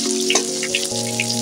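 Potatoes fry in oil left over from frying ridge gourd, giving a close crackling sizzle with scattered droplet-like pops beneath steady tonal background music.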